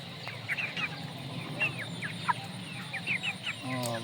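Shamo rooster clucking among other chickens, including Indio Gigante birds, with repeated short calls and chirps over steady farmyard background noise, while someone talks in the background.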